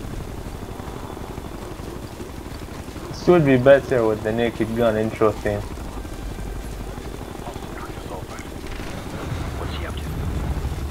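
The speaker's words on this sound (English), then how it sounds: "I just shot at that chopper, I didn't care." Helicopter rotor drone from the video game Ghost Recon Future Soldier, a low steady rumble running under a brief stretch of talk and growing slightly stronger near the end.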